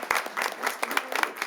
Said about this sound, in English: more big round of applause